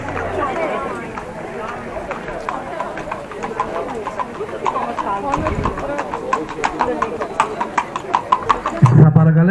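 Horses' hooves clip-clopping in a religious procession of an icon and horses at Kapi, Lesvos, a quickening patter of many hoofbeats under someone talking over a loudspeaker and crowd murmur.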